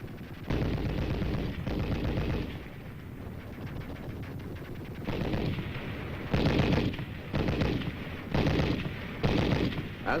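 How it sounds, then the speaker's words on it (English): Artillery shells bursting and machine gun fire on a Korean army training ground, a loud continuous barrage of rattling bursts and heavy thuds in uneven waves, with no voices. "As the machine gun bullets spattered a murderous background to this baptism of fire, Chang kept on crawling"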